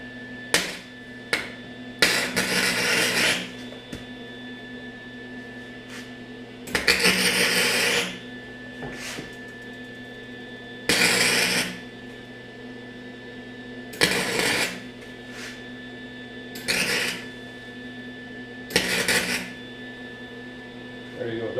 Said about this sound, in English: just going to tack weld a couple of blobs, if you will, around the inner bearing sleeve here